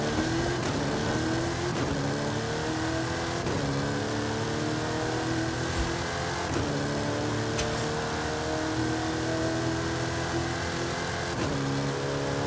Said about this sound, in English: Ginetta driving.